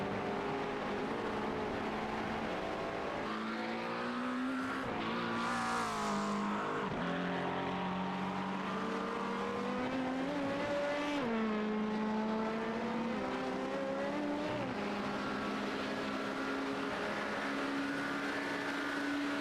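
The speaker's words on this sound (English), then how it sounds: "You see these two cars running almost identical lines, the way they fly out of the chicane like that." Race cars in an endurance sim-racing event storm out of a chicane on the Mulsanne Straight, two engines close together with steady high revs, downshifts and sweeping pitch changes as they brake and accelerate away, loud and continuous with no talk.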